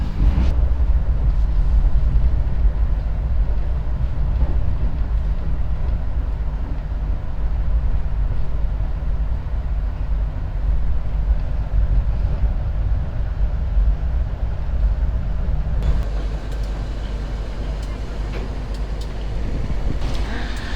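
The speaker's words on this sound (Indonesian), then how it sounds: "Persiapan merapat stasiun" Passenger train on the Jakarta–Jember Pandalungan service slowing as it pulls into Bangil station, heard from inside the carriage: a steady low rumble and rolling hum throughout, with a brighter shift in the noise near the end.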